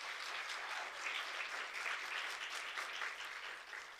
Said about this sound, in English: A round of applause for Modise, please.